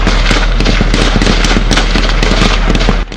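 Gunfire from a combat exchange during military operations in Burkina Faso: dense, loud, overlapping cracks and bursts of shots fire rapidly and continuously for a few seconds, close and harsh.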